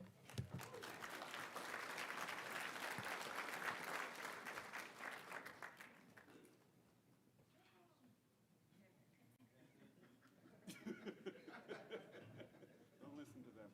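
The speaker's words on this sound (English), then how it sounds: "Please help me welcome to the stage, Frank Cote." An audience applauds as a speaker is welcomed onto the stage at a gala, with dense clapping that fades into murmurs and chuckles, followed by a second, lighter round of clapping.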